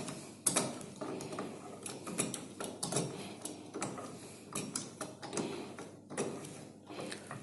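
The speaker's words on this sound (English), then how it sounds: "So, first we open the handwheel of the valve." A globe valve's handwheel being turned open, giving a dense run of metallic ticks, clicks and scraping taps in irregular bursts, close and fairly loud throughout with no voices.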